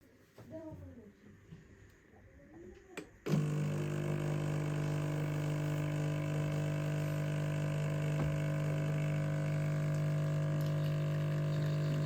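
A home espresso machine pumps water as it brews coffee, kicking in suddenly after a few quiet seconds of soft handling noises and then running as a loud, steady drone through to the end.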